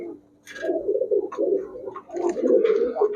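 Rajshahi high-flyer pigeons coo in loud, close, throaty rolling bursts, one run early and another after a short pause, with a few brief higher chirps or scrapes mixed in.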